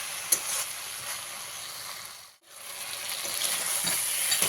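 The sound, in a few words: vegetables and tomato frying in a pan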